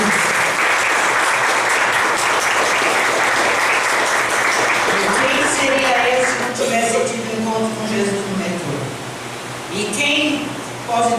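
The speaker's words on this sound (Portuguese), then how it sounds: "Dê uma forte salva de palmas para o Senhor." Loud, dense applause from a church congregation fills the first five seconds, then thins while voices and singing-like tones rise over the fading clapping.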